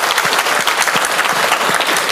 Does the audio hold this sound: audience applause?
yes